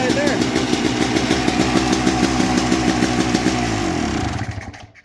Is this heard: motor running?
yes